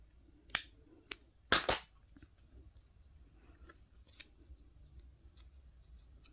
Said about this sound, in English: Okay, and then I just cut into the center.